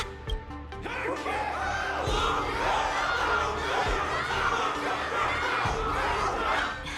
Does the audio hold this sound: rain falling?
no